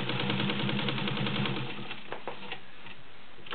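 A Universal class 15 clone sewing machine stitching cotton, a brief close run of rapid, even mechanical ticking and whirring that slows and fades toward the end.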